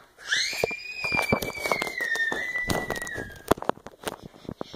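A firecracker lit at home, heard as a shrill rising whistle lasting a few seconds with sharp crackling pops and bangs close by, continuing in scattered loud cracks afterward.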